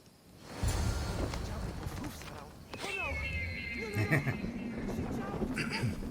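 A horse whinnies loudly in a scene from the video game Assassin's Creed Odyssey, with hoofbeats and a voice speaking around it.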